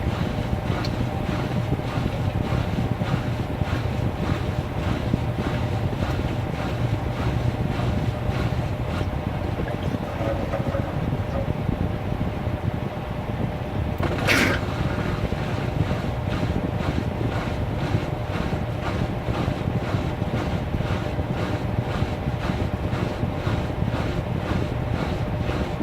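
A 2016 Whirlpool Cabrio washing machine runs at spin speed, a continuous whooshing rumble with a fast rhythmic pulse and one brief sharp knock midway.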